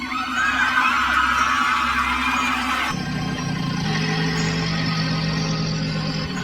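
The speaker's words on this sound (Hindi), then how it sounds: "और ये बस भी अपनी पूरी रफ्तार में खाई की तरफ बढ़ रही है।" Cartoon bus racing at full speed toward a cliff edge, a loud continuous engine roar with rumbling and a sudden shift in tone partway through, mixed with a busy soundtrack.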